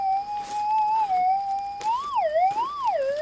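Metal detector gives a loud, wavering target tone over a gold nugget at an abandoned gold mine, a steady beep that bends up and down in pitch for several seconds, close and clear.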